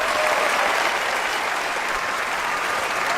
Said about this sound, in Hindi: खड़े होकर तालियां भाई ट्रंप के लिए।